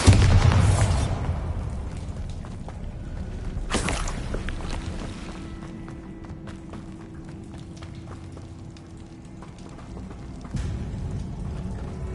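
A Bombarda blasting spell in Hogwarts Legacy goes off with a loud opening boom, then a second sharp blast a few seconds later and a rumbling tail, followed by a softer thud near the end.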